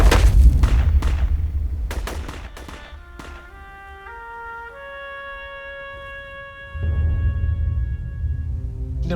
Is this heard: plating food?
no